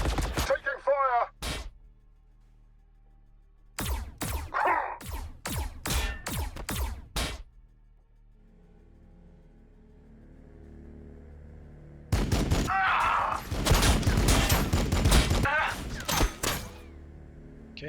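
Gunfire in a Warhammer 40,000 video game battle between T'au and Blood Angels forces: loud rapid bursts of shots in two clusters, a quick volley early and a longer dense barrage later, separated by quieter stretches with low rumble.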